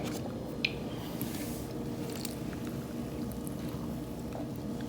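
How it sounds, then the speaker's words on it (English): Pickle brine poured over vegetables packed in a jar, a soft continuous liquid wash with small squishy gurgles and one brief drip-like tick early, fairly quiet and close, no talking. "Give that a pour."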